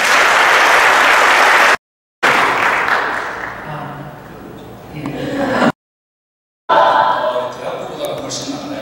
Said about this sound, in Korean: 목사님 나오실 때 박수 한번 환영하겠습니다.